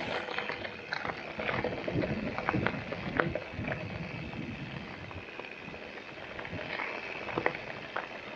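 The Masikap River flows along a rough mountain road, a steady near rush of water with bubbling splashes and occasional sharper gurgles, with no one talking.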